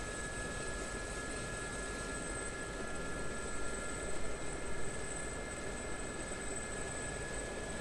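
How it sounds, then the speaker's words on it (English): A Gazelle helicopter flying in the DCS combat flight game gives a constant broadband rotor and engine drone with steady high whines, even and unbroken throughout. "I like flying helicopters, it's pretty aesthetic."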